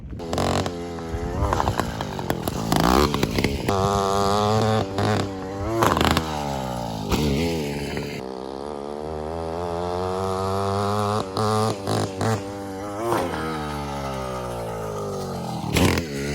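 A motorised bike's small engine buzzing and revving hard, rising and falling in pitch with repeated throttle blips as it launches over a big driveway jump, loud and close throughout.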